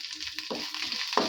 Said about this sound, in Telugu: ఎండుమిర్చి, కరివేపాకు కూడా వేసేసుకుని ఒకసారి అయితే వేపేసుకోవాలి.